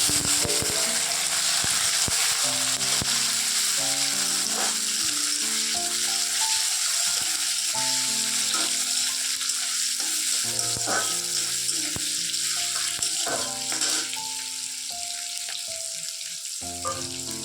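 Panch phoron, dry chillies, bay leaf, tomato and onion frying in oil: a steady bright sizzle running throughout, with occasional stirring clatter, partly masked by melodic background music.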